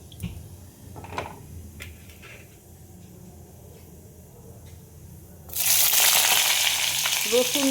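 Cumin seeds go into hot oil: after a quiet stretch with a few light clinks, a sudden loud, steady sizzle bursts up and continues to the end.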